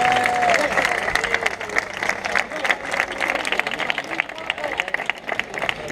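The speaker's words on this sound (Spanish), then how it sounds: "quiero un aplauso para el pueblo" Concert crowd in a Spanish town square applauds for the neighbours, a dense, steady clapping with cheers and voices mixed in throughout, fairly close and loud.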